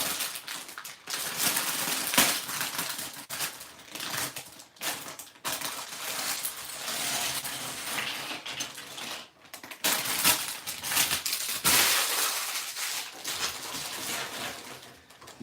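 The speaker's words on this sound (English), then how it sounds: "Yeah, plastic bags, all that crinkling sound." Plastic bags of Lego pieces crinkle and rustle loudly at close range while the Galaxy Explorer 10497 set is built, with continuous crackling and pieces rattling throughout.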